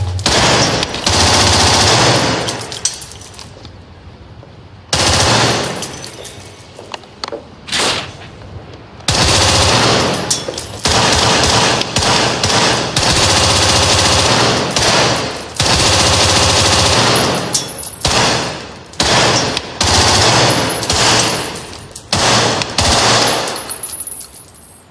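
Gunfire in a Hindi-dubbed action movie, loud bursts of rapid machine-gun fire and volleys of shots that repeat across the clip with brief pauses between.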